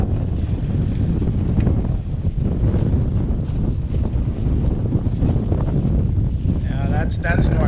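Strong wind roars steadily across a sailboat on open water, buffeting the microphone with dense, loud gusty noise throughout, with faint creaks near the end.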